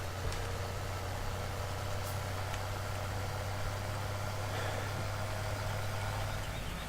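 A big tractor idles in a farming video game, a steady low engine rumble with a constant hum that holds evenly and close throughout, with no talk.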